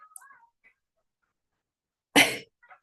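A single sharp, loud sneeze breaks an otherwise quiet room, preceded by faint small noises and followed by a brief breathy trace.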